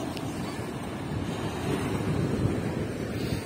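Sea waves wash onto a beach in Odesa on a sunny October day, a continuous broadband surf roar with wind buffeting the microphone, swelling slightly midway, no voices.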